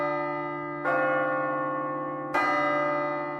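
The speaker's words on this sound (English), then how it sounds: "As soon as the lunch bell rang on the first day of school" A school lunch bell rings twice on the first day of school, two bright struck tones about a second and a half apart, each ringing on and slowly fading, clear and alone with no voices.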